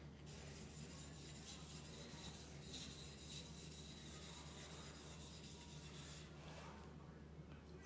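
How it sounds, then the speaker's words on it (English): A knife polished by hand makes a faint, continuous rasping rub with brief brighter scraping strokes, close and quiet, with no voices. "We're polishing a knife."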